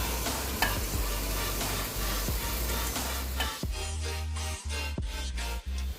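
Julienned carrots and capsicum are stir-fried in a pan for veg spring rolls, giving a steady close sizzle with repeated scraping stirs of a spatula.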